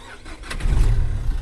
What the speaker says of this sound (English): Obviously it's a diesel, so it sounds like an old tractor.